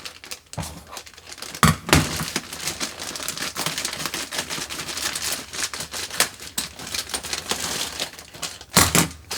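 A heat-sealed plastic bag of gum being handled, crinkling and rustling continuously up close, with louder sharp crackles and crumples at a few moments.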